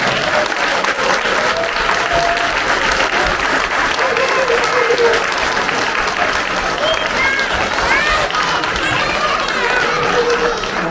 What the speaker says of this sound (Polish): gorące brawa. Ogromne brawa.